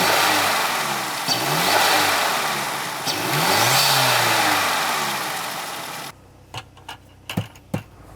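A car engine free-revs with a persistent, unidentified odd sound. Loud, rising and falling revs swell up several times for about six seconds, then cut off, leaving a few sharp clicks and taps.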